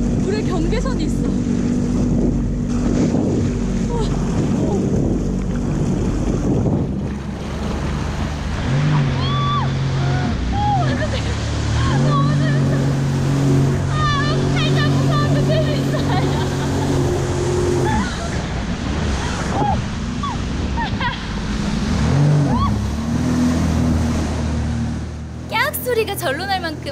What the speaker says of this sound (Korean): 제트스키가 이런 매력이 있다니.